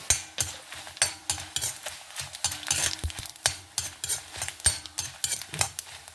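Chana dal roasts in a pan with coriander seeds and cumin, a spoon scraping and stirring in a quick, repeated rhythm over a faint dry sizzle, close and fairly loud with no voices.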